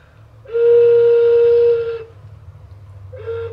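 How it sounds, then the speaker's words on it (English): A bird-shaped toy whistle is blown twice nearby: one steady, shrill tone lasting about a second and a half, then a short toot after a pause, over a low background hum. "so it's a whistle, so it makes noise"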